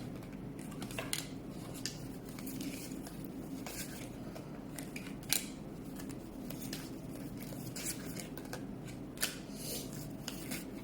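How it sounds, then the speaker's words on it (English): Tarot cards being flipped and laid out during a Pisces reading, giving soft, quiet papery flicks and slides spread across the stretch, with a few sharper snaps standing out over a low steady background hum. "you see me flipping the cards because I'm taking cards upright"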